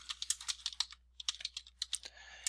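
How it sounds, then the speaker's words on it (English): Typing on a computer keyboard during a software walkthrough, with a steady run of close, crisp keystrokes, a brief pause, then another burst of key clicks. "I'm basically just typing these out so that you can see what I'm talking about"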